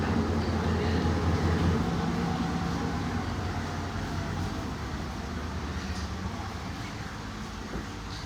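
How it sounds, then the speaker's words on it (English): Steady rumble and hiss inside a dim train carriage on a day trip to Kandy, Sri Lanka, a continuous broadband roar at moderate level with faint rattles and no clear voices. "So that's us on our train."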